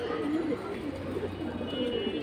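Black-necked pigeons coo softly and repeatedly, with low throaty calls rolling over one another at close range against a steady background murmur.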